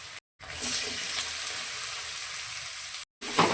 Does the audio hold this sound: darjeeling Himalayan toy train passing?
no